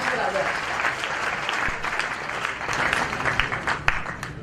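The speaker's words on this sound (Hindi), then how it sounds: "आओ इनके लिए तालियां बजाओ" A room of trainees at a sales training session on objection handling claps together in a dense, steady round of applause with some individually distinct claps, with no clear talk over it.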